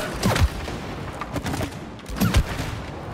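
Gunfire in It Takes Two: two short bursts of shots roughly two seconds apart, loud and close, with low thumps and a hiss of echo between them.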